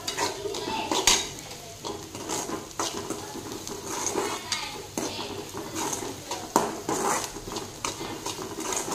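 A spoon stirs salt into green chillies sautéed in oil in a pan, making repeated scraping and clinking strokes over a soft sizzle of frying, heard close and without talk.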